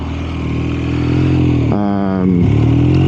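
BMW R1250RS motorcycle with a flashed ECU, throttle cranked hard: a loud, close, droning boxer-engine roar that briefly shifts pitch mid-pull, then keeps climbing as the bike accelerates.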